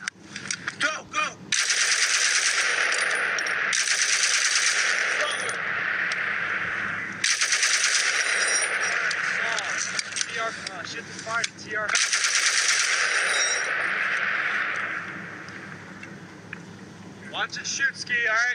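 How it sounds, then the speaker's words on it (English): An army machine gun fires long, sustained bursts, with sharp rapid reports separated by brief pauses, loud and close, while voices call out between bursts. "Watch it shoot, Ski, all right?"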